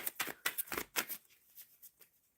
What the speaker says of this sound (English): Shuffling for Mari and Lewis's energy.